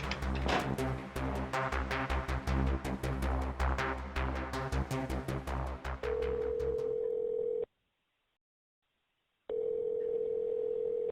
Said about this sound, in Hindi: आभा ने कहा था 11 बजे फोन करने के लिए, अब ना तो फोन उठा रही है